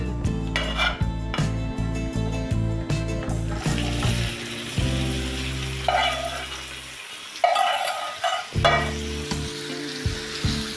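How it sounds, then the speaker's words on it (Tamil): Gooseberries fried in hot oil for a Tamil village-style pickle sizzle loudly, with repeated metal clanks and scrapes of a ladle stirring against the pan, close and continuous, without speech. "இப்போ இதில் உடனே நெல்லிக்காவை சேர்த்துருங்க."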